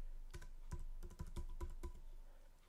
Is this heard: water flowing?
no